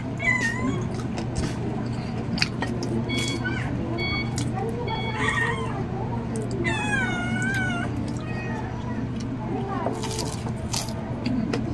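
A cat meows repeatedly in a series of distinct rising and falling calls, close by, over a steady low hum with a person talking intermittently.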